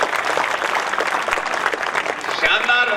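An audience at a Hindi humorous poetry gathering (kavi sammelan) breaks into continuous dense applause, loud and sustained for a few seconds with a voice rising over it near the end.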